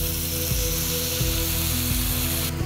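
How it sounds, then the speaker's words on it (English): Rabbit pieces brown in a pan for a traditional Cretan dish. A steady hiss of frying holds throughout over a low hum, with faint regular clicks underneath and no talking. "This is a step that takes a few minutes to brown it like this."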